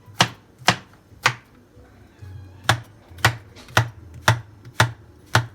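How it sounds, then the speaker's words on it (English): A sharp knife chops mushroom in about a dozen crisp, close strikes at a fairly even pace, with one short pause partway through. "I use this sharp knife. I'm just gonna cut up this."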